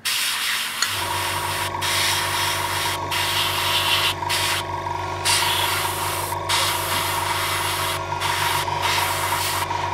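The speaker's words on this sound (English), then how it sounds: "Sorry for the noise of the compressor there." Airbrush compressor humming steadily with a loud, constant drone while paint hisses out in repeated bursts with short breaks, spraying a base coat onto a miniature, close and with no talking.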